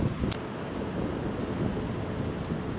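Wind buffets the microphone at the seafront in Le Havre, a steady low roar with faint rushing underneath and no voices.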